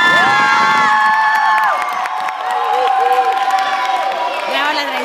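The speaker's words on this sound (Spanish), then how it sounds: "recibimos con un fuerte aplauso a la reina de la Alianza" Crowd cheering and applause welcoming the Red Alliance queen at a 2013 pageant performance, loud shrill whoops and shouted voices, many of them children's, over a scatter of clapping, sustained and close throughout.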